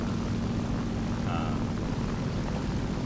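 Steady drone of a World War II German propeller fighter's piston engine in War Thunder, a constant, even hum holding at moderate volume with no speech over it.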